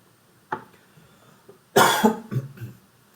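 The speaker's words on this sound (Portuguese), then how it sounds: "estou tentando tossir um pouco fora do microfone para não fazer muito barulho" A person coughs nearby: a single short cough, then a pause before a harder, raspy burst of coughing with throat clearing.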